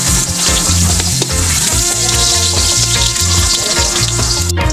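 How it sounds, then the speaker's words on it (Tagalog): Garlic sautés in hot oil in a pan, giving a loud, continuous sizzle and crackle with steady spattering throughout and a brief scrape near the end. "lagyan na po natin ng bawang"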